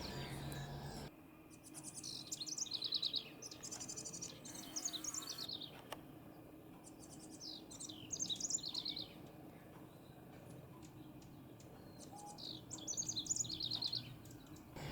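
Wrens sing rolling, repeated melodic phrases in a garden, with several bursts of bright chirping spread across the clip over a steady low background hum, fairly near and moderately loud.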